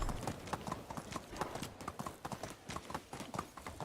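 Horse hooves clip-clop in the Medieval Dynasty video game, a brisk, regular rhythm of close, crisp hoof strikes running steadily throughout, with no talk over them.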